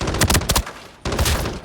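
An automatic assault rifle in the shooter game Arena Breakout fires two close, rapid bursts of sharp shots separated by a brief pause, with no talking.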